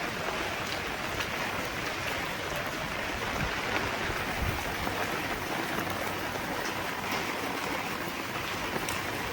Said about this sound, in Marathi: बाहेर पडलोय पण पाऊस चालू झालाय मजबूत